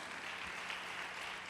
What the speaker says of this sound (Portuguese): essas palmas são para Jesus